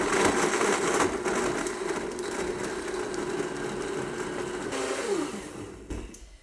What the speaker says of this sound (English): I usually blend it twice anyways